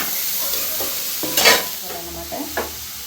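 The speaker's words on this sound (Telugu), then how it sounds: "నేనైతే వేసేస్తున్నాను బీరకాయ ముక్కలు అయితే ఇలా వేసుకొని కలుపుకోవాలి బాగా కలుపుకొని" Ridge gourd pieces are tipped into a sizzling curry in a pan and stirred, with a steady fry hiss and a few louder scraping strokes of the spoon, close and alone.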